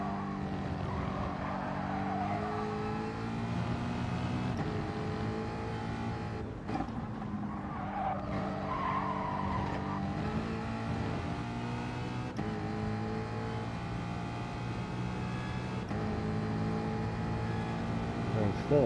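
A Ford Mustang race car engine drones steadily in Gran Turismo Sport, shifting through its revs with brief gear-change dips. Someone talks over the engine at times.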